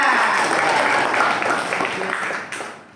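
A classroom of students applauds in a steady, even patter that holds for a couple of seconds and then fades out.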